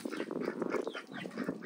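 Ducks on a homestead quack in a busy overlapping chorus, several birds calling close by in quick, uneven bursts.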